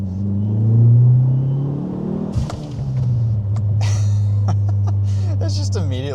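A Dodge Neon SRT-4 accelerates hard with its wheels spinning, a loud, deep engine drone that rises and holds close to the car, while a person speaks over it.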